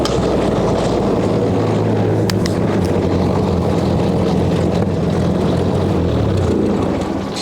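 A 1958 Ford Powermaster tractor engine runs rough on choke in snow, a loud, continuous low chugging rumble that wavers unevenly and sags slightly toward the end.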